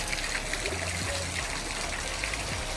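Water pours down the Niagara waterfalls in a constant, loud, broadband rush that holds steady throughout, with no voices heard.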